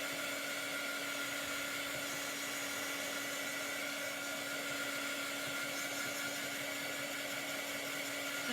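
A hair dryer blows steadily on a wooden cutout coated with shimmery chalk paint, a constant close whine and airy rush with a steady tone throughout and no pauses.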